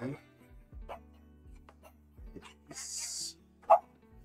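A dog gives a few soft barks and whimpers under a person's quiet talking, with one sharper yelp near the end, all at low level in a home setting.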